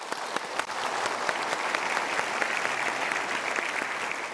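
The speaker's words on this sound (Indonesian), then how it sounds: "Sekarang kita berikan tepuk tangan dulu." An audience at a motivational talk by Mario Teguh gives steady, sustained applause, a dense even wash of many hands clapping with no speech over it.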